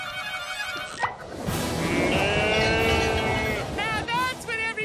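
A cartoon flying cow gives a long, loud, drawn-out moo on a farm, rising over busy background music and effects, with brief squeaky sounds before and after.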